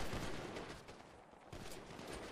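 Dense, continuous gunfire in the GTA V video game, rapid overlapping shots forming a steady loud barrage with no pauses, heard alone.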